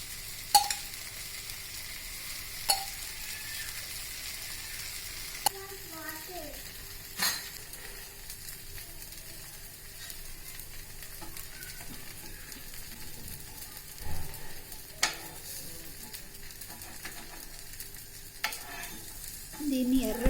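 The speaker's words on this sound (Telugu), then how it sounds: "దీన్ని ఎర్రగా క్రిస్పీగా అయ్యే వరకు కాల్చుకోవాలి" Ragi millet dosa roasting in ghee or oil on a hot pan, giving a soft, steady sizzle with scattered clinks and scrapes of a utensil throughout, and no talking.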